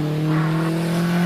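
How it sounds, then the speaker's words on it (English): A 1965 Renault R8 Gordini 1296cc race car, number 30, taking a right-hand hairpin at Prescott, its engine holding a steady, strong drone with a brief swell of tire noise mid-corner, close and continuous. "Right-hand hairpin in the 1965 Renault R8 Gordini, 13 and 1296cc car number 30."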